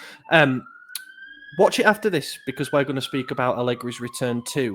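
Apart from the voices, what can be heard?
siren outside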